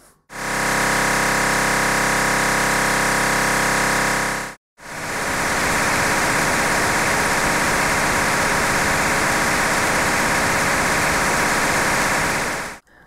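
DMR digital radio signals received through a repeater: two loud, continuous buzzing raspy transmissions, the first steady and tonal, the second harsher and more textured, separated by a brief gap of silence.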